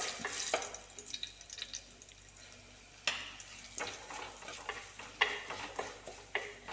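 Garlic and chili fry in a pan for a brinjal thoran, a soft crackling sizzle with frequent spatula scrapes and clinks, fairly quiet and close.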